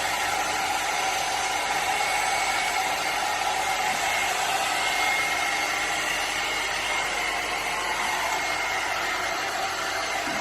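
A Blo Out Brush hair dryer runs on low heat with a steady airy whoosh and faint whine, constant and close for the whole stretch with no talking.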